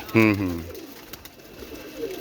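A single racing pigeon coos once, a short low throaty call up close, followed by quiet background noise.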